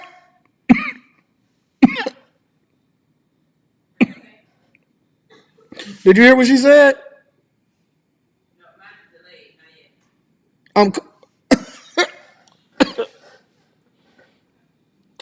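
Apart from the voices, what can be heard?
person coughing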